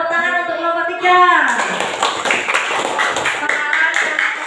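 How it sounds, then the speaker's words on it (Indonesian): A classroom of students claps for a student group, a loose burst of quick, close claps following a brief spoken voice at the start. "Tepuk tangan untuk kelompok 3."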